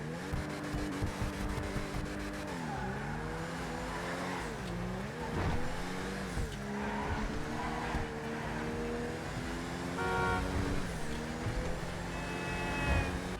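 Engine of the Canis Seminole Frontier vehicle in a GTA video game, a heavy-sounding motor revving and accelerating continuously for over ten seconds, with pitch rising and falling through gear changes and a brief tire squeal, no talking.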